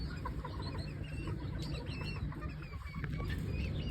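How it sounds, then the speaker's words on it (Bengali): Chickens of a tiny foreign breed kept on a farm cluck and chatter softly together, a continuous mix of small bird calls close by with a faint background hum. "পৃথিবীর সবচেয়ে ছোট জাতের মুরগি"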